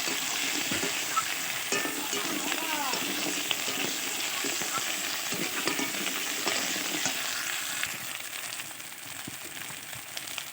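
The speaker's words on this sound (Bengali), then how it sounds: "তো কচুর সঙ্গে পেঁয়াজ আর রসুনটাকে আরও ভালো করে ভেজে নেব।" Taro pieces frying with onion and garlic in a pan, giving a continuous dense sizzle with occasional scraping stir strokes, close and steady throughout with no speech.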